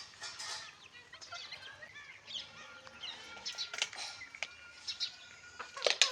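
Free-range village chickens at dusk, a rooster among chicks, give scattered chirps, clucks and short calls, near and fairly faint over a quiet evening background.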